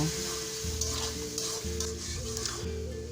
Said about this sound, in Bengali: সবগুলো মশলা আমি ভালোভাবে কষিয়ে নেব